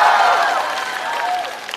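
A studio audience at a stand-up comedy show cheers and applauds in a sustained, moderately loud wash of clapping and voices that fades slightly toward the end.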